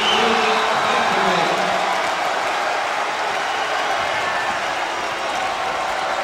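A basketball crowd cheers for Pantovic, a steady, dense roar of voices and clapping that fills the whole stretch without a break, with a faint hint of voices underneath.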